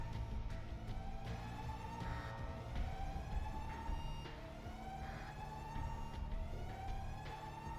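A spaceship alarm siren wails steadily, its tone rising and falling, and keeps sounding at an even level through the whole stretch with no voices.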